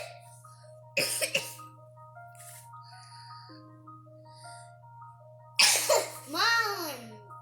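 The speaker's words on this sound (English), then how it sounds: "You've got a cough." A child coughs sharply in two quick bursts, then later coughs and clears the throat again, set against a constant low hum and tonal music with a few brief sung notes between.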